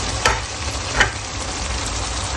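Handi kebabs fry in a pot with a constant, close, hissing sizzle, broken by a couple of quick stirring clinks.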